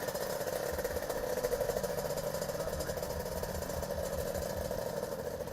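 Small motocross bikes ridden by young children idle steadily at close range, a continuous buzzing engine rumble with a fast, even pulse and no talking over it.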